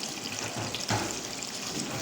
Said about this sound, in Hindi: और अभी हम इसमें थोड़ा सा पानी ऐड करेंगे।